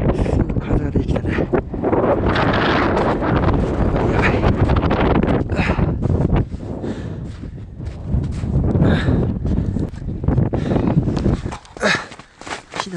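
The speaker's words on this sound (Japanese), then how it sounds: "すぐ風ができたね。" Strong wind roars across an exposed Himalayan slope near Lobuche East Peak on an Everest expedition, a loud, continuous buffeting with gusts and microphone rumble, with voices talking faintly beneath it.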